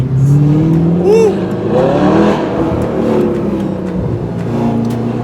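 Audi R8 exhaust roaring and screaming under acceleration while driving, a loud, sustained engine note with rising and falling pitch sweeps from start to finish.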